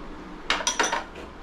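A spoon clinks against a glass while stirring ground cardamom into a chilled Alphonso mango shake, giving three or four quick, bright metallic taps close by in a short burst with no voices.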